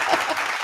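Machine-played applause bursts out at full level for a short moment, a dense wash of clapping with no voices over it.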